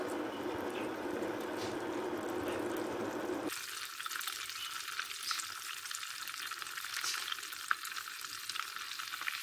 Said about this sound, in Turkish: Sos tavasına da tereyağımı aldım. İyice erisin.